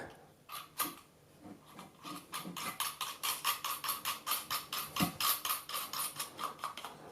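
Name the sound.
screwing clamping ring nut on Garrett ACE 150 metal detector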